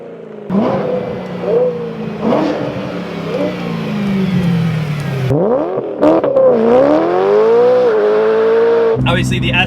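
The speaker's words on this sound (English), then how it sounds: "the V8 in that car, the S65, is easily one of the most beautiful sounding engines that we have in a BMW" A BMW S65 V8 revs and climbs through the gears, a loud rising engine wail with pitch sweeps and a gear change near the middle, ending in a sudden burst of different noise.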